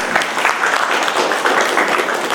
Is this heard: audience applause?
yes